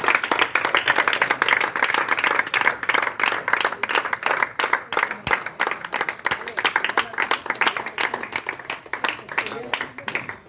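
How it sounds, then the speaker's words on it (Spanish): Church congregation applause, a dense burst of hand clapping that starts loud and gradually thins into a rhythmic, steadier clap, with voices mixed in beneath. "Dale un aplauso al Señor."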